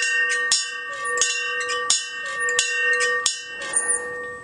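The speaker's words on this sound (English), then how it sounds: "On top of the church, I noticed there was a bell, and a rusted chain hung down within reach." A bell atop a lonely hilltop church in Italy, pulled by a rusted chain, rings in about seven clear metallic strikes at an uneven pace, each leaving a bright, lingering ring.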